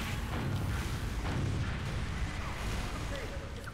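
Rocket blasts from Team Fortress 2 roll together into a continuous low, rumbling roar of explosions at moderate loudness, with a player talking faintly underneath.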